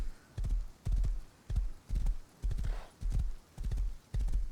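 A horse's hooves clip-clop at a steady walking rhythm in the survival video game Rust, with eight or nine evenly spaced paired hoof beats heard close and clear and no talking over them.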